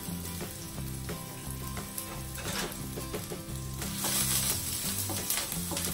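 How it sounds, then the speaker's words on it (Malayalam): Garlic sizzling in hot olive oil in a pan over a high flame, a steady crackling fry with clinks and scrapes of a utensil stirring throughout, loud and close with no talking. "എണ്ണയിലോട്ട് ആദ്യം വെളുത്തുള്ളി ഇട്ട് കൊടുക്കാം"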